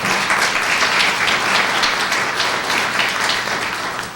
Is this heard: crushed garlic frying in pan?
no